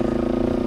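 Brief burst of a motorcycle engine held at raised revs, giving a buzzy, tightly pulsing drone that stays loud and steady.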